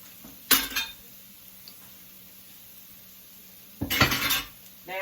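A metal whisk clatters against a cooking pot in two short, close bursts of scraping and clinking, quiet in between, while a Creole cream sauce is being made.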